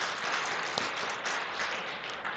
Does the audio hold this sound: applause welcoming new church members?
yes